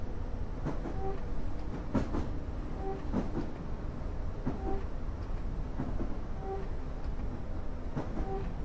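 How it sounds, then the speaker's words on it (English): A Class 365 electric train rolls over points heading into Finsbury Park, with a steady rumbling cab-interior drone broken by repeated clickety-clack wheel knocks. "Here we go, carelessly going over the points as we head into Finsbury Park Station."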